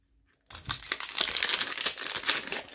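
A Pokémon card booster pack wrapper is torn and crinkled open close up, a burst of crisp, noisy crackling foil that starts suddenly after a brief silence and keeps rustling to the end.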